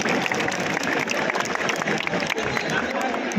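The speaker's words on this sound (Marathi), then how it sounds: "जोरदार टाळ्यांनी रसिकांनी त्यांना प्रोत्साहन द्यायचं आहे" A crowd claps loudly and continuously at a Dahi Handi festival in Thane, India, dense applause filling the space with scattered voices mixed in.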